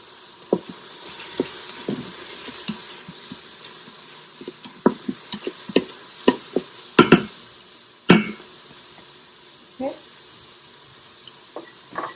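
Whole spices dry roasting in a pan, heard as a scattered series of dry taps, rattles and scrapes from stirring, with a few louder knocks over a quiet background.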